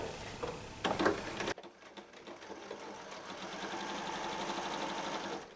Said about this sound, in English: So I'm going to sew 3 seams here.